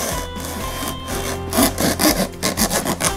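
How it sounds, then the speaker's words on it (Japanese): A cardboard cutter blade slices open a taped cardboard box in a series of rough, rasping strokes, about six quick cuts close up growing louder in the second half, with no talk. "こちらをですね、刃先を段ボールのところに差し込みます。"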